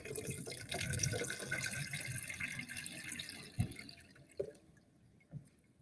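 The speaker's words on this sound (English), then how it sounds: "we're going to go ahead and dump our water into the drain" Water poured through a colander runs and splashes steadily into a sink drain, then tapers off to a few scattered drips and soft knocks.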